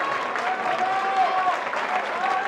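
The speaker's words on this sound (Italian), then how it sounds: "suscita un applauso spontaneo questa azione di Vitali Maslovati" Spontaneous applause from spectators at a regional youth track championship 1500 m race as a runner moves into the lead, steady crowd clapping throughout.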